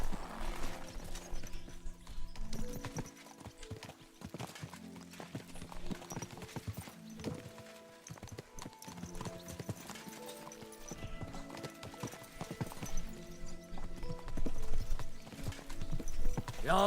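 Horse hooves clip-clopping at a gallop in the medieval game Kingdom Come: Deliverance II, with steady rhythmic hoofbeats over game music and an occasional whinny.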